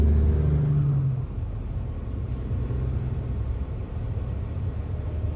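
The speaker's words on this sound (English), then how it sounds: "Whew, nice truck." A truck passes close by with a loud low engine drone that fades after the first second into a lingering rumble of road and wind noise.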